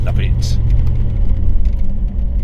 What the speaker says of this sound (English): Here's the roar of the V8.